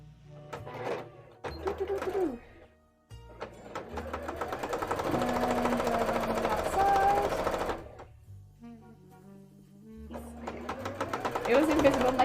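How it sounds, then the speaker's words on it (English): A sewing machine stitches pieces of plushie fabric together, its rapid mechanical run rising and falling in bursts between pauses, with a person talking intermittently around the stitching. "Let's sew these bits together now."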